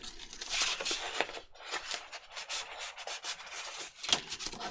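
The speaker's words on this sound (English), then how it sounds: "So I'm going to score that. Fold it." Paper being scored and folded into a flap for a junk journal, close dry rubbing and scraping strokes in an irregular series, with soft crinkles and no talking.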